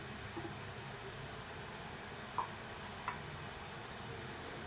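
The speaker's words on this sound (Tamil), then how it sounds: "எண்ணெய் சலசலப்பெல்லாம் அடங்கின பிறகு நம்ம எடுத்துக்கலாம்" Garlic murukku, a crisp South Indian snack, deep-frying in hot oil gives off a faint, steady sizzle and hiss, with a couple of soft clicks as the pieces are nudged.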